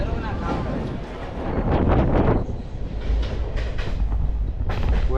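An Indian sleeper train runs along its rails toward Rishikesh, giving off a steady, loud rumble with rhythmic clatter and wind noise that builds in the middle and near the end.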